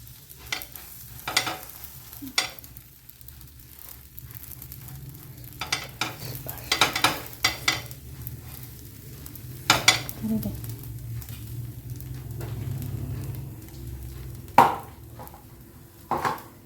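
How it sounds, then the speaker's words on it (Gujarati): Pav bread toasting on a buttered pan for pav bhaji, a steady low sizzle under repeated sharp scraping and tapping of a spatula against the pan, with occasional clinks. "એમાં આપણે પાઉં શેકી લઈએ"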